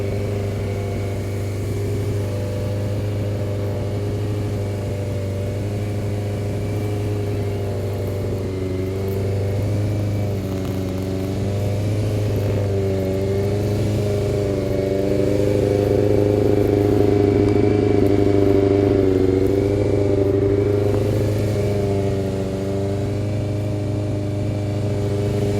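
A 2002 Honda CBR 600 F4i motorcycle engine running steadily nearby, a loud even hum that swells with light revs partway through, with no voices.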